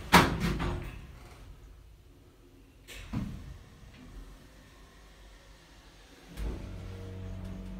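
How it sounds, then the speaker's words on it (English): Lift sliding doors in a Portsmouth town centre shopping area close with a low rumble and thud near the start, followed by further quieter mechanical rumbles and a clunk near the end in an echoing indoor space. "Doors closing, please stand clear."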